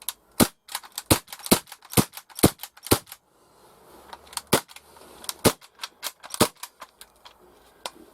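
An Umarex H&K MP5K CO2 6 mm airsoft gun fires sharp, loud close cracks, mostly in quick single shots and short bursts, with pauses between groups.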